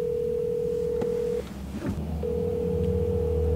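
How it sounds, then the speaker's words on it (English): A phone call is being placed. A steady, close dial tone sounds, breaks off for a moment with a brief blip, then resumes and holds on under a low hum. "I was just about to call Brittany, but I meant to call Madison."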